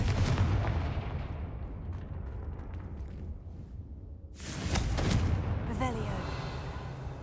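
Blasting Confringo spell cast in the Hogwarts Legacy game, landing as a loud booming burst with rumble and a sharp fiery crackle, over continuous game noise and music.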